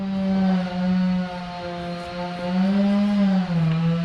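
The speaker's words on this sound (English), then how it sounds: "I have a neighbor who's doing some chainsawing." A chainsaw engine drones continuously, loud and buzzing, its pitch wavering up and down slightly as it runs.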